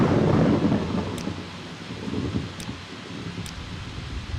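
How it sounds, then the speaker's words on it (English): Steady heavy rain hisses in a Morrowind city street while low thunder rumbles build and fade, with a few faint high clicks cutting through the continuous downpour. "And of course, it is raining."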